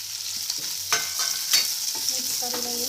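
Chopped onion with garlic frying in hot oil for a kantola curry, a steady sizzle with several scraping stirs of a spatula in the pan, close and alone.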